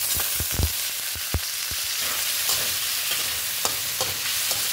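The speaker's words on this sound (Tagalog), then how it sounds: "Tapos itong atay guys, prito din natin kunti." Liver fries in a pan for menudo while a utensil stirs it, an even sizzle broken by a series of sharp scraping clicks and pops, loud and close.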